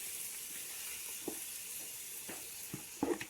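Cassava flour hitting a hot pan for farofa gives a faint, steady hiss with a few soft scraping stirs, the sizzle quiet and close with no voices over it.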